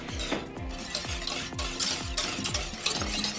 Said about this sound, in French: Ensuite, on va mettre le beurre. On mélange jusqu'à ce que ça soit totalement incorporé.